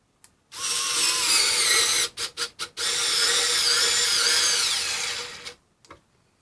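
A Ryobi compact battery-powered screwdriver whirs steadily as it drives a screw, pauses for a few quick trigger blips, then runs on in one long loud burst before stopping.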